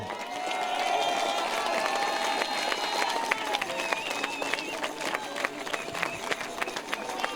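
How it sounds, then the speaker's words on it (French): A crowd applauding at a farmers' protest blocking the Salon de l'agriculture, steady clapping with cheering and whistles over it, voices mixed through the noise. "Et une nouvelle fois, on peut applaudir."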